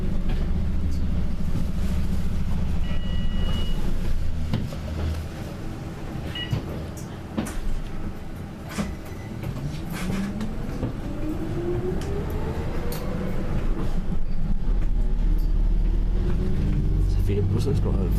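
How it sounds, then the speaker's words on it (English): Tyne and Wear Metro train heard from onboard, a loud steady rumble with a rising then falling motor whine and rattling, with voices in the carriage. "Just waiting to get off of the Townaway Metro."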